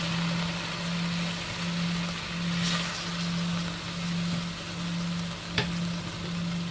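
Chicken searing skin-side up in a hot pan for coq au vin, a soft continuous sizzle with a low steady hum underneath and one sharp clink partway through.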